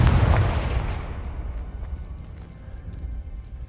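A Confringo fire spell from Hogwarts Legacy goes off in one loud, booming blast at the start, then rumbles down into a long, fading roar.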